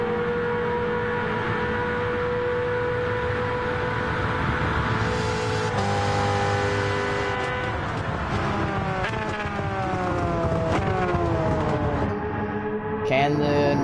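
Nismo GTR Skyline and Jaguar XJ220 race cars duel in Gran Turismo 7, engines droning steadily with rising and shifting harmonic whines as revs climb through gears, loud and continuous throughout.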